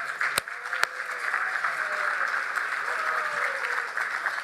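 An audience at an institute gathering breaks into steady applause, a continuous patter of many hands at moderate loudness, with a couple of sharp close claps near the start and faint voices underneath.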